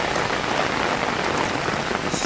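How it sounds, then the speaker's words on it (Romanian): Torrential rain pouring down outdoors, a dense, loud, unbroken roar of heavy drops hammering surfaces nearby, constant from start to finish with no voices. "plouă incredibil de tare."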